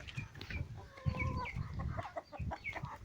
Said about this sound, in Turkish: Burada bir tane tavuğumuz duruyor.